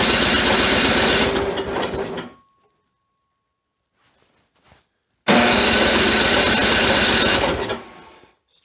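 Snow blower engine cold-starting at full throttle in about -10°F cold, roaring loudly for two seconds, cutting out, then catching again into a second sustained loud run before dying away.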